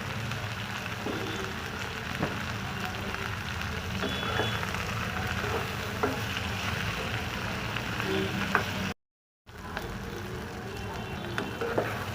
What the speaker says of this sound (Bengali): এতটাই ভাজা ভাজা করছি, বেশিটা লাল করে ভাজবো না